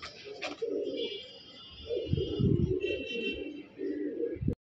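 A pair of big-sized pigeons for sale, cooing in several low bursts nearby, with some faint chirping higher up.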